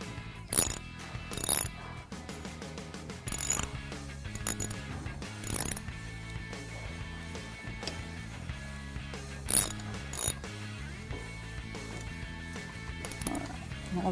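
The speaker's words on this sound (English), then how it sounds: "Tighten them up on both sides." A ratchet tightens the brake caliper bolts on a motorbike, giving quiet repeated clicking runs in short spurts separated by pauses, close up with a faint background.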